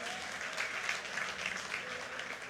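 An audience at a charismatic Holy Spirit church service claps in a steady, sustained round of applause, heard at a distance and fairly faint.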